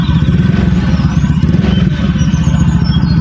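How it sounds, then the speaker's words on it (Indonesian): A Honda Beat scooter fitted with a ZRC exhaust copied from a CMS design rumbles at idle, loud and close, with a deep, continuous bassy throb and no voices. "kali ini kita akan coba suara dari knalpot ZRC ya"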